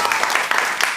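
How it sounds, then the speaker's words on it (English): A short burst of audience applause for a young woman at the back of a gathering, steady dense clapping filling the whole second with no voices on top. "let's give a nice applause for this young sister in the back"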